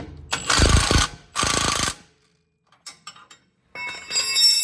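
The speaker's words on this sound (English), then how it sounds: "just need to tighten everything up now. Again, with the 7/8 inch wrench and 13/16 inch socket" 13/16 inch ratchet socket wrench tightening lift kit bolts on a Jeep Gladiator truck, in several quick clicking bursts with short pauses between.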